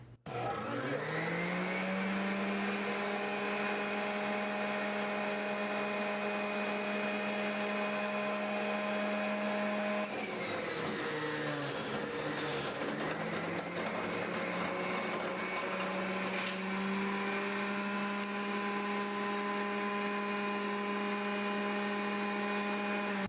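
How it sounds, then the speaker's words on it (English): A Hamilton Beach Big Mouth juice extractor juices three medium carrots, its motor whining loudly and steadily throughout, then bogging down into a rougher grinding churn partway through before settling back to a smooth, high, continuous hum. "Next, I'm going to juice 3 medium carrots, and they'll all fit in here at the same time."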